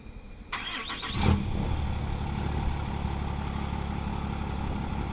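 A 2012 Limited truck, tuned to 1200 horsepower, starts by remote start: the engine cranks briefly and catches, settling into a steady, low idle rumble that continues to the end without any talking.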